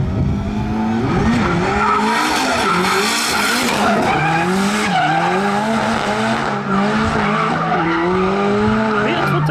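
A drift race car skids off the track with long, wailing tire squeal and a revving engine, loud and close, the pitch sliding up and down as it slides.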